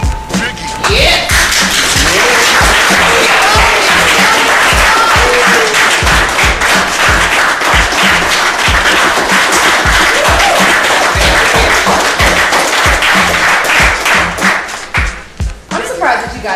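An audience at a radio station event claps loudly and steadily for the program director for about fourteen seconds before the applause tapers off. Cheers and voices rise within the crowd noise.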